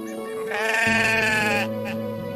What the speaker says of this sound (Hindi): एक काले रंग का लंबे सींगों वाला हट्टा कट्टा बकरा जंगल में आकर चरने